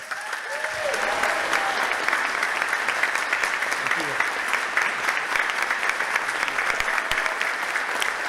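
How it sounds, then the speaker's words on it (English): A crowd at a wetlands town hall claps steadily and warmly for several seconds, dense applause filling the room with a few voices underneath. "Give yourselves a round of applause"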